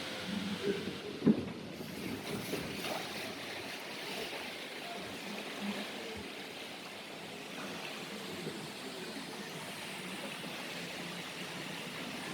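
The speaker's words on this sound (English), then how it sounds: "here comes the boat" A Splash Mountain log boat moving through the flume at Magic Kingdom, heard as a faint, continuous wash of flowing water with a soft rushing hiss, a brief bump early on, and distant park ambience.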